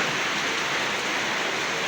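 Heavy rain falls steadily outdoors, a dense, even hiss with no breaks, fairly close and loud.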